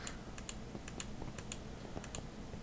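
Rapid keyboard and mouse clicks while playing Minecraft, a quiet, close run of light taps and paired clicks in an irregular rhythm with no talk.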